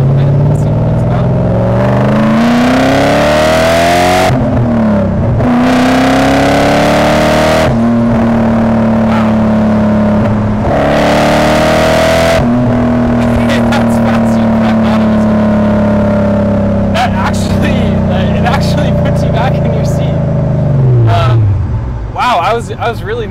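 A BMW E39 M5 V8 pulls hard in second gear, its loud engine note climbing steadily in pitch through several rising sweeps before easing off, close and dominant, with a voice talking over it.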